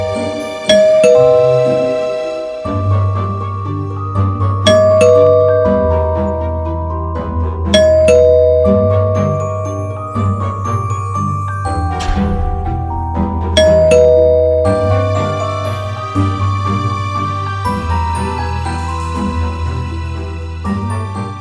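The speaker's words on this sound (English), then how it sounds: "We highly warn you not to open your door when the doorbell rings." A doorbell rings again and again in a horror short film, its ringing chime tones sounding out over a low, sustained drone.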